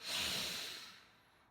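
A person breathes out forcefully during a core-strengthening scoliosis exercise, giving a single close, breathy exhale that fades within about a second and a half.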